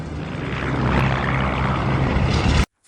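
Propeller plane taking off, a loud, steady engine and prop roar that builds slightly over a few seconds, then cuts off abruptly.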